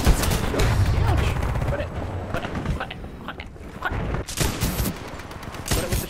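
Rapid shotgun fire in Titanfall 2, bursts of sharp loud shots crowding the opening seconds, then a lull and a second cluster of blasts, with a voice talking in places underneath.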